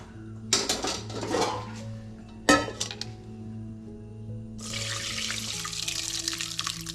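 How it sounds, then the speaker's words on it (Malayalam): Washed rice ada for a palada pradhaman dessert is tipped into a strainer: a few clanks of metal utensils, then a steady rush of draining water pouring close by for the last couple of seconds. "ഇതിനൊരു അരിപ്പയിൽ ഊറ്റിയെടുക്കാം."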